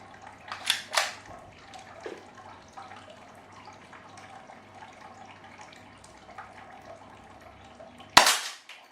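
An airsoft gun fires a BB, two sharp cracks near the start and one loud close snap near the end, separated by quiet room tone with no talking.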